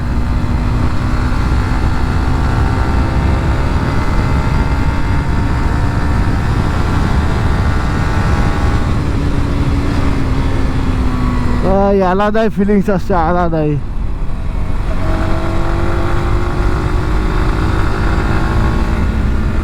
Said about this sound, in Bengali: পাহাড়ে তো এরকম আর কি স্পোর্টস ক্যাটাগরির বাইক চালানোর ভাই মজাটাই আলাদা